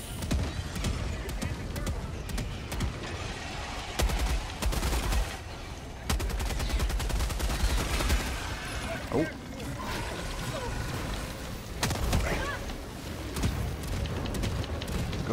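A heavy machine gun fires in Helldivers 2, sustained rapid bursts of loud, chattering gunfire broken by brief pauses, amid battle noise with occasional talking over it.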